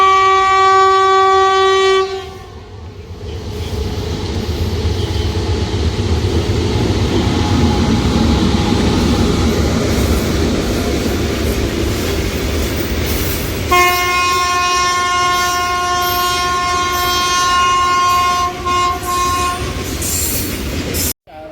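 A train moves past platform 1 at Sahjanwa railway station with a loud, continuous rumble of wheels and carriages. A long horn blast sounds at the start and another comes late in the passage, with no one speaking.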